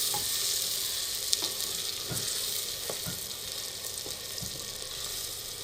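Onions fry in ghee inside a handi for Afghani-style aloo gosht, a constant close sizzle with a few sharp spoon scrapes and knocks against the pot, and no voices.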